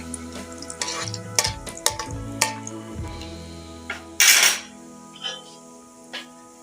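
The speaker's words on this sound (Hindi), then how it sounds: "ड्राई फ्रूट हम घी में ऐड करके हल्का सा फ्राई करते हैं" Dry fruits fry lightly in ghee in a pan for carrot halwa; a spoon scrapes and clinks against the pan in uneven strokes, with a short, brighter sizzling burst midway over a steady tonal background.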